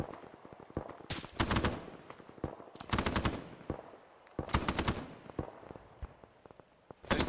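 Automatic gunfire in the military shooter game Arma 3: several bursts of rapid rounds cracking out near and loud, with scattered single shots and distant crackle in between, no talk.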